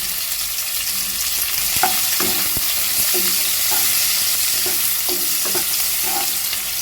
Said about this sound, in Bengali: দু মিনিট মতো নেড়ে চেড়ে পেঁয়াজটা কিন্তু আমি খুব ভালো করে ভেজে নেব